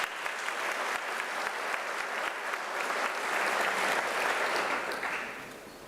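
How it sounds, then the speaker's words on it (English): Graduates at a UNISA autumn graduation ceremony clap for themselves in a steady, full round of applause from a large crowd, swelling slightly midway before tapering off at the end. "Can you please give yourself another round of applause?"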